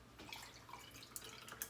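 Homemade violet lemonade is poured into a glass of ice, giving faint, close splashing and trickling with a few light drips and clinks, quiet and without talk.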